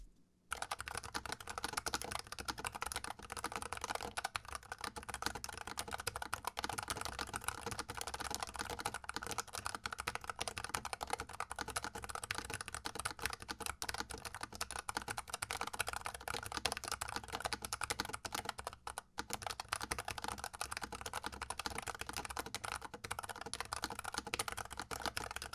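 Steady, continuous typing on a NuPhy Air 60 low-profile mechanical keyboard, stock and unlubed, with dense, solid-sounding keystrokes clattering close up for the whole stretch, no voices.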